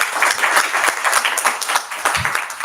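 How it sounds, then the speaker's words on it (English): An audience applauds two doctors who presented at a heart-health talk, giving a short burst of close, loud clapping from what sounds like a modest room-sized group. "If you can give them a round of applause."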